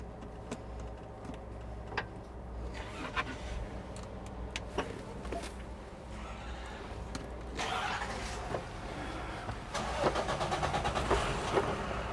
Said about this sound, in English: Everybody's starting up their cars.